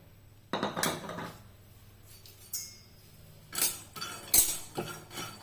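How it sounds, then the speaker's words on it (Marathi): Peanuts roast in a pan over a low gas flame, giving intermittent rattling and clinking as they are stirred and tossed. The bursts are close and moderately loud, with quiet gaps between them. "आता आपण ह्याच्यात शेंगदाणे भाजून घेऊया।"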